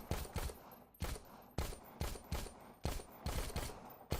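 Gunfire in Dead Rising 4: about a dozen loud, close shots in quick rhythmic pairs and singles, each a hard crack with a short tail.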